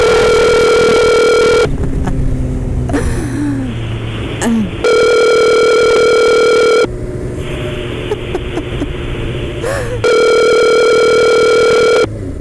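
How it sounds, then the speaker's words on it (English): A phone call rings out through a loud speaker: long, steady electronic ringback tones repeat three times with pauses between, while road and engine noise from a motorcycle ride fill the gaps. "Call Jake State Farm"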